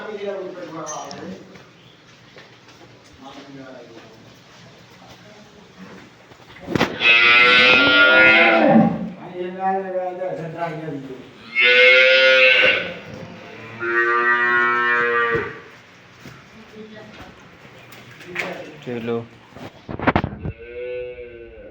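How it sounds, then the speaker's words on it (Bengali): Friesian dairy cows on a Bangladeshi farm give several loud, drawn-out moos, separated by quieter stretches with someone talking and general barn noise. "দেখতে পাচ্ছেন দুধের গাভী"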